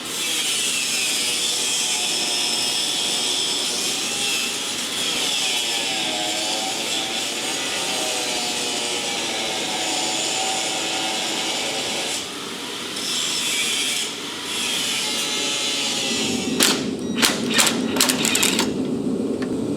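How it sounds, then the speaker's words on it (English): An angle grinder grinds down seized, rusty bolts on a vehicle's bumper mount. The steady, loud, high whine runs almost without a break, dips briefly twice, then ends with several sharp, gritty bursts. "I'm gonna get the grinder and eyes and ears and go ahead and grind these down"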